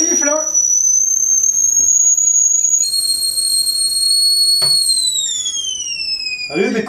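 A stovetop kettle boiling water for herbal tea whistles loud and steady, its shrill tone stepping up partway through and then sliding down as it fades, with brief voices and clatter at the start and end.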